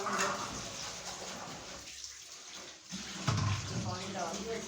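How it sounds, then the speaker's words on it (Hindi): Water pouring into a tub with detergent for soaking laundry, a steady faint splash and gush, with a brief lull before the flow resumes. "ये सरफ डाल दिया, इसके अंदर पानी डालेंगे"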